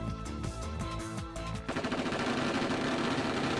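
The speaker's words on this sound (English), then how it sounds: "Simultaneously, the sound of gunfire rings out." Rapid automatic gunfire from the video game Robotics;Notes Elite, a dense burst of shots that kicks in partway through after a stretch of tonal game sound, loud and continuous to the end.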